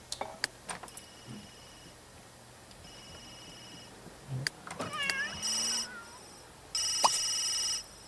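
A telephone rings in The Sims 3 life-simulation game with two distinct bright electronic ring bursts near the end, mixed with scattered clicks and other quieter game effects.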